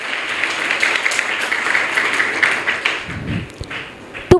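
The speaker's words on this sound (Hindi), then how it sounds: "आप लोग सभी तालियां बजा करके उसके सम्मान में" Students in a school hall give a sustained round of applause that thins out and fades after about three seconds, leaving a few scattered claps and taps.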